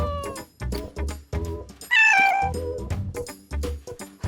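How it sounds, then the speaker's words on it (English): A domestic cat meows several times in a row, close and fairly loud, with one longer, higher, drawn-out meow in the middle of the series. "That's a cat meowing."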